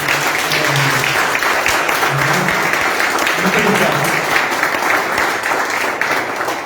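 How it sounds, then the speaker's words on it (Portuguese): A church congregation at an evening gathering gives sustained applause to honour four people, a dense steady clapping wash with someone briefly speaking a word of thanks over it. "Então eu queria pedir a vocês uma salva de palmas para essas 4 pessoas."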